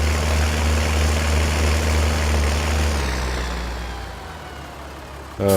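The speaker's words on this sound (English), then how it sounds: "Loud tractor." A heavy tractor engine in Farming Simulator 19 idles with a steady low rumble that gradually softens and recedes, then a sudden loud burst cuts in right at the end.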